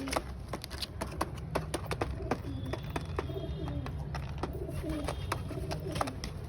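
A pigeon coos in repeated low calls amid frequent sharp clicks and scratchy handling noises, fairly close.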